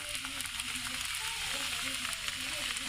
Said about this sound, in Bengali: একটা লোহার কড়াইতে আমি তেল দিয়ে দিয়েছি। এখন এই পুরটাটা আস্তে আস্তে করে দিয়ে দিব।